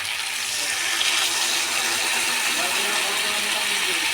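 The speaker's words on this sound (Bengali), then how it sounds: "এবার পরিমাণ মতো জল দিয়ে দেব।" Water pours steadily into a pan of potato and pointed gourd curry, a continuous close rush with no break.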